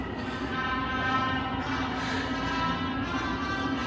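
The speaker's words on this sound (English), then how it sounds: "So we got the train." Train ride in Seoul heading towards Gimpo station, a steady loud rumble of the rail car in motion with continuous wheel and track noise and a constant hum throughout, close and unbroken, no talking.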